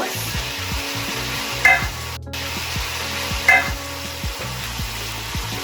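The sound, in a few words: frying masala for fish biryani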